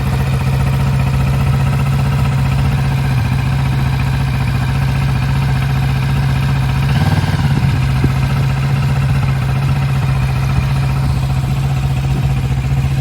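A motorcycle engine idles steadily while warming up, a constant close rumble with a slight clattery texture and a brief swell partway through, and no voices.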